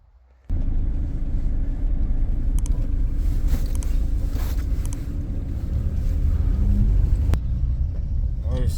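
A car towing a rented trailer on the way to collect scrap metal, a steady loud low engine and road rumble from inside the cabin that starts abruptly and holds throughout.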